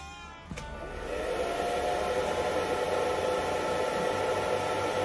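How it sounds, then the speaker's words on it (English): A handheld blow dryer switches on with a click and runs as a steady, loud broadband whoosh of rushing air, holding constant for several seconds with no talk. "It's called a blow dryer. Now it's gonna make a noise"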